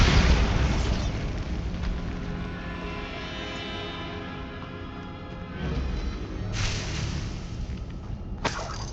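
A Bombarda explosion spell in the Hogwarts Legacy video game, a loud booming blast that rumbles and fades, followed by further bursts of game noise near the end.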